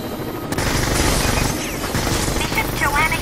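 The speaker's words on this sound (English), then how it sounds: "They have a combat chopper here!" A combat helicopter in the video game Tom Clancy's Rainbow Six Vegas 2, its rotor roar mixed with bursts of automatic gunfire and explosions, loud and continuous with a whistling sweep near the end.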